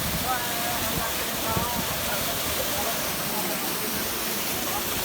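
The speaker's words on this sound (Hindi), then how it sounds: "बिल्कुल ठंडा चश्मे का पानी।" A cold mountain spring waterfall gives off a broad, constant roar of rushing water, loud and close, with someone talking over it now and then.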